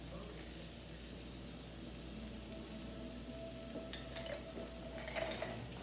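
Charred peppers frying in a pan in a home kitchen, a steady sizzle and crackle throughout with light stirring and a few clinks near the end, no talking.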